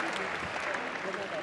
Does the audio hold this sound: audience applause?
yes